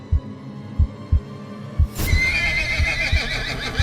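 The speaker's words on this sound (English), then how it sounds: "he heard the horse neigh loudly" A horse lets out a loud, drawn-out neigh that rises over a steady rhythm of deep, thudding heartbeat-like pulses and a low hum.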